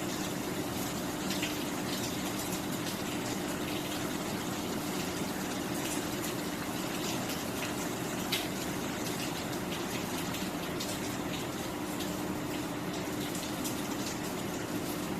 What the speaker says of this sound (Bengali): এখন গরম পানি দিব গরম পানি দিলে তরকারির স্বাদটাই বেড়ে যায়